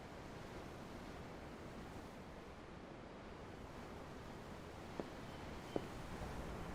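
Ocean waves in the Tales of Arise video game, heard aboard a ship: a steady, even wash of surf and wind that holds at one level throughout, with two brief faint clicks near the end.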